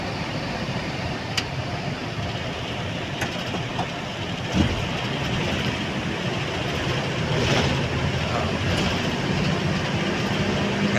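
A metro train runs along its line on the edge of a city, a loud continuous rumble and rolling wheel noise with faint rail clicks, steady and close for the whole stretch.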